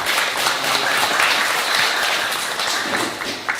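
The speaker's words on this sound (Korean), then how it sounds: "박수로 맞으십시오." A book concert audience applauds loudly and continuously to welcome a poet onstage, the dense clapping filling the room close and steady.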